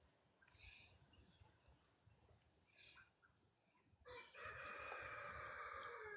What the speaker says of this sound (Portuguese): Cantou o galo.